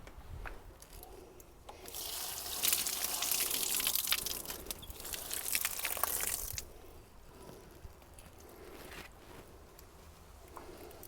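Water from a hose rinses out a blue pool clarifier container, building to a steady splashing rush for several seconds before tapering into trickles and small drips.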